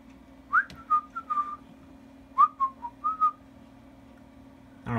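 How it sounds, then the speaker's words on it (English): A person whistles a short tune, two phrases of clear, close melodic notes separated by a pause, over a low steady background hum. "I don't know why I just whistled that song"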